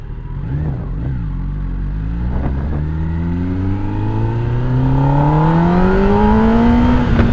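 A Benelli 600i motorcycle engine accelerates steadily, its pitch climbing through several rising gear sweeps with a loud, continuous mid-range drone and no talking over it.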